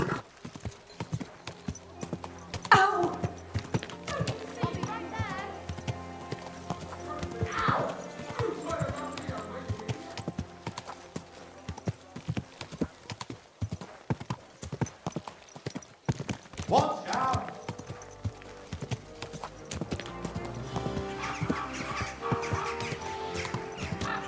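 Hooves clip-clop steadily throughout in the video game Kingdom Come: Deliverance II, with a horse's whinny and snorts mixed in over a busy background.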